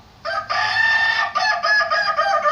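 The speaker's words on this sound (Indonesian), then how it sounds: "Suara berkokok inilah ciri khas ayam kukuak balenggek." A kukuak balenggek rooster, a breed from Tigolurah known for its multi-tiered crow, crows loud and close in one long, drawn-out call broken into several melodic stepped segments.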